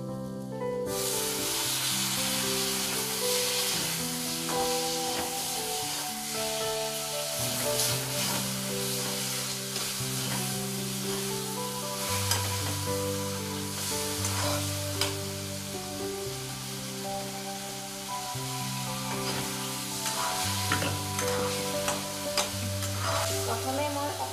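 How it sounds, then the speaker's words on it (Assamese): Assamese tangy fish curry with ripe tamarind sizzles and fries in a pan as hot water is added, a continuous close hiss with stirring scrapes, alone with no talk. "মই এতিয়া গৰম পানী দিম"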